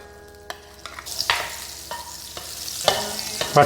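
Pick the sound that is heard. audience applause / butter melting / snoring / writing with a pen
butter melting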